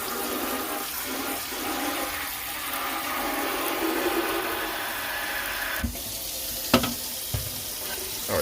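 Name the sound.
hot water running from tap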